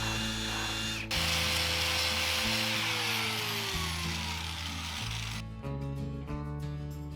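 A power tool grinds loose rust and paint off a rim, a loud continuous whirring drone that shifts pitch several times as the load changes, with a rougher, grittier burst near the end.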